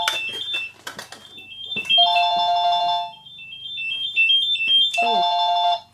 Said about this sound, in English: And that would be the phone.